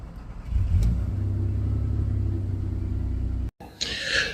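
An Audi TT 3.2 8N engine turns over and catches, settling into a loud, steady idle rumble close by, then cuts briefly before revving up again.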